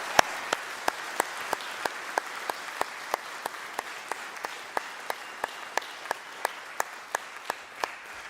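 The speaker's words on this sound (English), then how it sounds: "I would just love to give one more round of applause for our seniors and for our overall performance tonight" Steady applause from a high school spring band concert audience, dense and even, with a few sharp single claps rising regularly above the crowd's clapping throughout.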